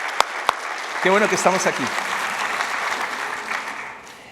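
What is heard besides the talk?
congregation applause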